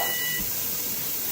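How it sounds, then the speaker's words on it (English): A kitchen timer gives a brief, thin beep at the start while pork is being canned, then fades into a steady hissing background with no speech. "Our timer just turned off."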